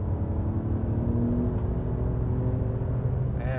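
A Porsche 911 Carrera engine drones steadily and loud on a race track, a sustained rumbling tone that holds through the corner and builds slightly as the throttle opens near the end.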